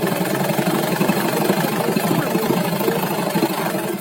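A sewing machine runs steadily, stitching a white cotton table cloth with a pressed seam, its motor whirring in a continuous, close, mid-pitched drone with fine rhythmic ticking throughout and no talking.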